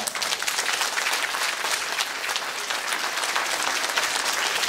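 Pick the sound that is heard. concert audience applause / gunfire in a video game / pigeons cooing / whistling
concert audience applause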